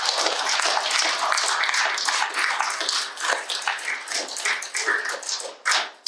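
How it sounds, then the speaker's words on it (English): An audience claps together at a talk on forgiveness, a dense, steady wash of hand claps that thins into scattered individual claps near the end, with no talking over it. "let's clap this into reality"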